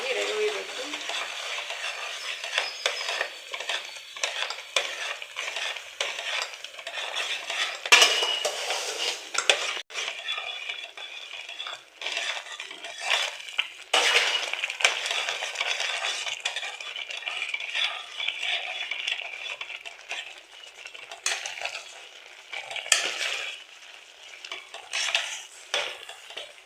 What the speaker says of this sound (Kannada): ನೋಡಿ, ರವೆ ಹುಯ್ತಾ ಇದ್ದೀನಿ